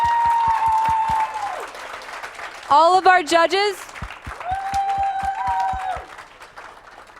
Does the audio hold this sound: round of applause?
yes